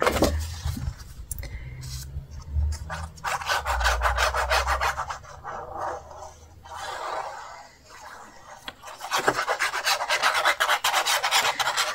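Background paper being glued into a beginner's scrapbook album is rubbed down by hand, repeated close rasping strokes in quick rhythm, with brief pauses between passes.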